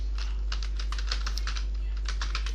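Rapid keystrokes on a computer keyboard click in an uneven, busy rhythm over a steady low hum, close and moderately loud, with no speech.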